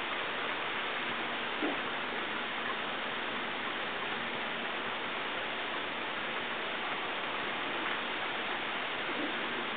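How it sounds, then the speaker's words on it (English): Steady rain falling during Hurricane Irene in Annapolis, Maryland, a dense, even hiss of drops that holds unchanged throughout, with only faint scattered ticks and no voices. "Just raining."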